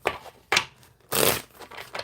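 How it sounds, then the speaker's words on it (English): Tarot cards being shuffled by hand: three or four close, papery riffling bursts, the third longest and loudest, with quiet gaps between and no talking. "I'm gonna have to sit here and shuffle a whole minute to make it."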